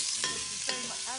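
Cut-up pancetta sizzling in a little hot oil, a steady close hiss broken by a few brief louder crackles and stirring scrapes.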